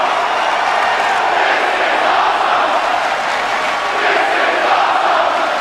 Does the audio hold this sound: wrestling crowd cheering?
yes